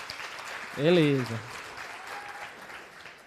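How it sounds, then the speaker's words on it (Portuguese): Students in a university calculus lecture clap for a classmate, giving a short, moderate round of applause. A voice speaks briefly over the clapping. "Dê logo uma salva de palmas para ele"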